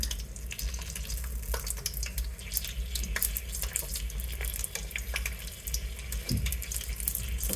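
Steady, dense crackling and sizzling of pork skin, two pieces at a time, deep-frying in very hot oil, continuous and close with no talking.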